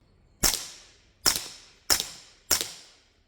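A rifle fires Hush 165 grain ammunition: four sharp, loud shots, each followed by a decaying echo, in an irregular rhythm with no talking.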